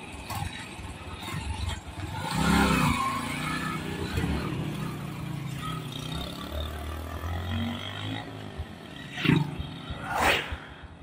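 An STX125 motorcycle engine on a road test, fault-checked for misfiring, revs up in a rough, growling surge, then idles with uneven pulses before two sharp revs near the end.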